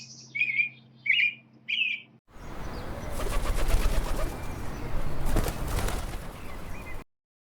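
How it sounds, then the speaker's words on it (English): Three bright bird chirps ring out in quick succession, then a sudden burst of fluttering wings and rustling takes over and rolls on for several seconds before cutting off, a storybook sound effect with no talk over it. "Then there was a sudden fluttering and chirping."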